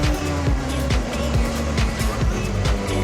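A Rotax DMAX racing kart engine screaming on track, loud and close, with a continuous buzzing drone and repeated quick pitch sweeps as the engine revs rise and fall.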